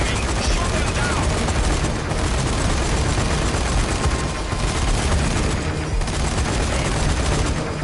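Machine gun fire in the video game Zombie Army 4 as a heavy gunner shoots down incoming homing missiles, a relentless loud barrage of rapid shots with explosive booms layered over it and a voice talking.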